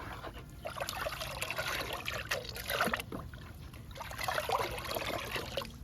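Liquid plant fertilizer stirred in a container, with a continuous wet swishing and trickling that is close and steady and has no talk over it.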